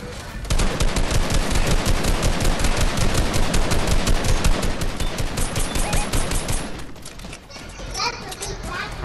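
Video game gunfire in a multiplayer shooter, dense rapid bursts of automatic fire rattling continuously for several seconds, then thinning out, with players' voices talking over the action.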